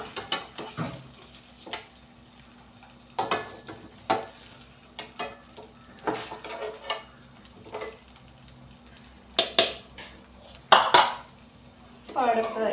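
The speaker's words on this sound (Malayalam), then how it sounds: "ഇനി ഇത് ഞാൻ വേറൊരു പ്ലേറ്റിലോട്ട് മാറ്റുവാണ്." Fried chilli chicken pieces shifted onto another plate, heard as scattered clinks and scrapes of utensils on dishes, with quiet pauses and a faint background hum.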